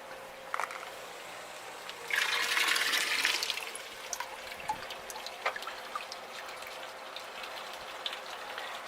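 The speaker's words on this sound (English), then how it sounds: "Water's flowing in at a good rate." Water pouring into the buckets of a small gravity water wheel, a soft trickle with a louder gush for about a second, then quieter dribbling and occasional drips.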